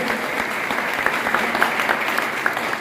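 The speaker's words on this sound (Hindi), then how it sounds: "ताली बजाइए" Dense, steady applause fills a hall during a motivational business seminar, with a few sharper individual claps standing out from the crowd's even clapping.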